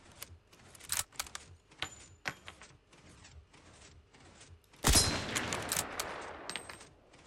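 A Carcano M91 rifle is reloaded in a video game: a run of sharp metallic clicks and clacks with a louder bolt clatter and a ringing rattle near the end, close and without talk.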